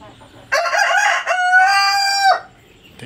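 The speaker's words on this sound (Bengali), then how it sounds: "সিল্কি মোরগ।" A Silkie rooster crows once, close and loud, a long drawn-out call that rises and then holds steady before cutting off, with quiet surroundings afterward.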